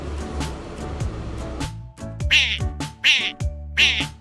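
Three short, bright meows from a cat come in a quick, evenly spaced row after some muffled, bumpy noise, with a light tune playing underneath.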